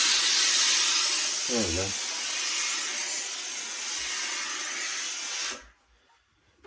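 Steam hisses steadily and loudly onto a felt hat to reactivate the fibres, a broad continuous spray lasting over five seconds before cutting off abruptly, with a brief spoken word partway through.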